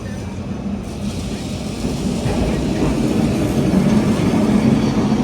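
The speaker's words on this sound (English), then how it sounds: "Walking back to give Tram 28 another go, walking through Alfama" Lisbon's Tram 28 rumbles through the narrow streets of the Alfama district, a low continuous rolling drone that swells slightly louder as it passes nearby.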